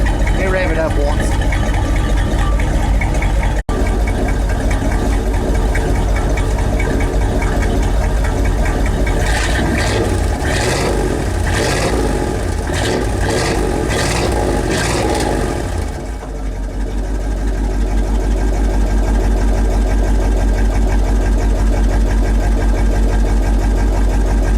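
An engine fitted with a Raptor muffler runs with a steady, loud exhaust drone throughout, swelling in a rev around the middle and then settling back to a low rumble, with faint talk now and then.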